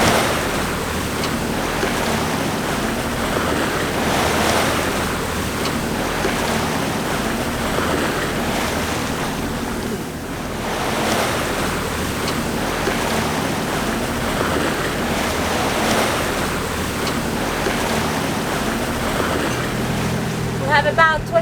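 Wind and waves around a sailboat sailing on the staysail alone in about 27 knots of wind, a constant loud rush of gusting wind and sloshing surf with steady microphone buffeting throughout.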